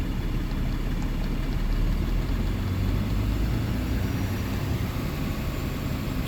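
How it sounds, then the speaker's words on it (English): A 2018 Ram 3500 pickup truck with 110,000 miles, its engine held at high idle in park, giving a steady, loud, low rumble that does not vary. "I can do high idle."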